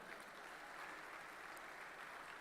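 An audience at a convocation ceremony applauds silver medal winners, a faint, even wash of many hands clapping that holds steady throughout with no talking.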